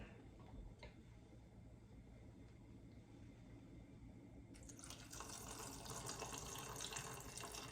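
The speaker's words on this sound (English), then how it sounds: "So we're gonna pour enough water that it will cover over the red beans" Water runs steadily from a tap, growing louder and brighter halfway through as it splashes into a cooking pot over red beans, continuous and close with no voices.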